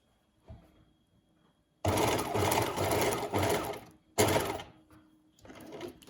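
Sewing machine stitching an exposed zip into fabric, heard as two loud, sustained runs of rapid needle clatter separated by a short pause, then a brief final burst after a quiet moment.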